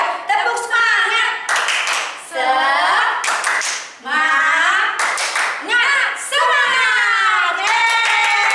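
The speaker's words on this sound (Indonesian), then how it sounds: "Ayo kita mau tepuk semangat." Children's Sunday school rhythmic clapping chant, tepuk semangat, led online, with bursts of patterned claps alternating with loud sung and shouted voices close to the microphone.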